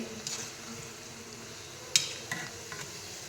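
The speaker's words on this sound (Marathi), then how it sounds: "तर आता जवळजवळ तळून झालेले आहेत तर मी हे काढून घेते" Gulab jamun made from wheat flour fry in oil with a faint, steady sizzle. A few light clinks of a utensil stirring in the pan stand out over it.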